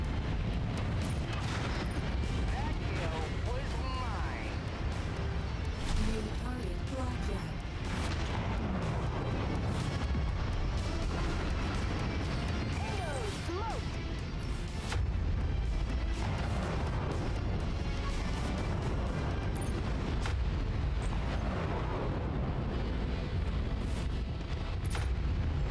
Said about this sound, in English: Don't walk outside of my range. I'll blast you with missiles.